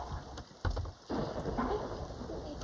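A Sea of Thieves storm pours rain with rumbling thunder, a sharp burst and a break in the roar before the downpour returns, steady and moderately loud, no voices.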